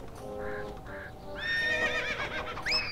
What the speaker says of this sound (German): Du brauchst natürlich ein Pferd.